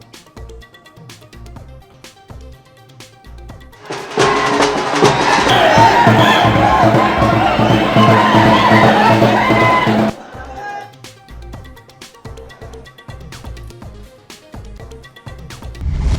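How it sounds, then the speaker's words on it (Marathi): A large crowd of Maratha protesters at CSMT station roars in a loud, dense burst of shouting and babble lasting about six seconds, framed by quieter sound before and after. "मराठा आंदोलकांची सीएसएमटी स्थानकावर मोठी गर्दी"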